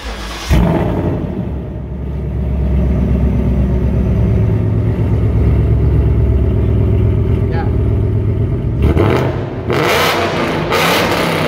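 A 2018 Ford Mustang GT engine runs loudly and steadily near the listener with a deep, sustained rumble that swells briefly near the end, while people talk over it.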